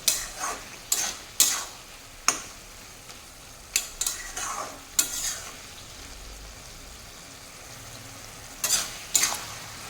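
Cabbage and fish-head curry stirred in a pan, a string of sharp scraping clatters in irregular bursts over a soft, steady sizzle, loud and close with no talking.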